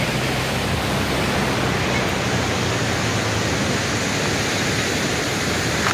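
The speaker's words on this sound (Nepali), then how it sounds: "यो खोलाको जुन पानी उस्केर छ हैन, यो एकदमै आनन्द खालको र सुनिरहँ खालको छ" The Sunkoshi river rushing past at Harkapur, a loud, steady broadband roar of flowing water with no break or variation.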